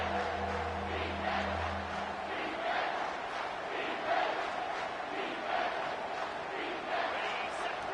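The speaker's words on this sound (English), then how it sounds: "This crowd knows when to bring it." A stadium crowd at an Ohio State vs LSU college football game roars in a steady, dense wash of cheering, loud and continuous throughout with no individual voices standing out.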